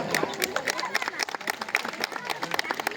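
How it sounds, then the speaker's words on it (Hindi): An audience at a colony New Year celebration claps to welcome guests, with scattered, uneven claps and crowd noise under a woman's amplified speech. "तालियों के साथ स्वागत कर इनका"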